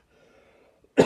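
A single sharp cough bursts out near the end after a faint, quiet stretch, loud and close.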